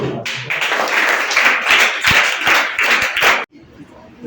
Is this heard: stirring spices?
no